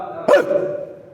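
A single short dog bark sounds at moderate volume, trailing off into a faint hum.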